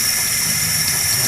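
Tap water runs steadily into a sink over rice being rinsed indoors, a loud, continuous hiss with no voices.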